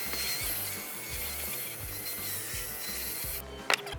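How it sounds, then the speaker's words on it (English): A drill brush scrubs dirt from a filthy Camaro car seat during an interior detail. The scrubbing is close, steady and rhythmic, then stops abruptly near the end, followed by a brief click. "grab my drill brush, kind of work it, get some of the dirt out"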